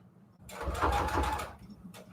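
A sewing machine stitches pleated ruffle trim for a junk journal in one short, steady burst of about a second, close and moderately loud, then stops.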